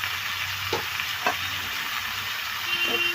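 Fenugreek leaves and sorrel fry in a pan with a steady, even sizzle, broken by a couple of soft scrapes as they are stirred, and no voices.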